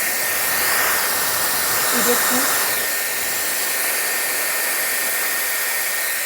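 A Dyson Airwrap hair styler blows air in a steady, loud hiss that holds across the whole stretch with only slight swells, and no voice comes through over it.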